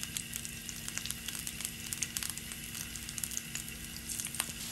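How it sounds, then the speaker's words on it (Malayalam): Prawns frying in hot oil with curry leaves crackle and sizzle close up, a dense hiss broken by frequent sharp pops and spits, with a low hum beneath and no one talking. "നമ്മുടെ എണ്ണ ചൂടായിട്ടുണ്ട്, നമുക്ക് ചെമ്മീന് വെച്ച് കൊടുക്കാം."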